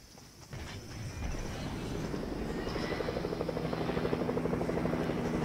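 A helicopter in Fortnite builds from quiet into a steady, chopping rotor drone that grows louder and closer over a few seconds.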